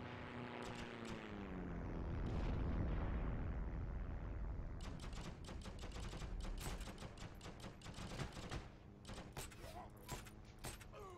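Gunfire and explosions from a World War II infantry video game follow each other in rapid bursts. The clip opens with a loud, rumbling boom and moves into dense, crackling volleys of shots.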